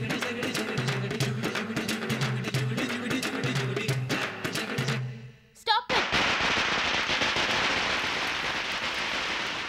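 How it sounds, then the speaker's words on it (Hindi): Rapid bursts of firecrackers crackle in a dense, loud stream, first under music and voices, then, after a short gap, as a continuous roaring clatter on their own. "ये पटाखे की आवाज कैसी?"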